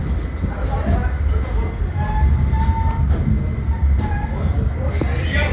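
A New York subway D train running on the F line toward Coney Island, a loud low rumble of the moving car with rattling and faint wheel squeals, heard from inside the carriage.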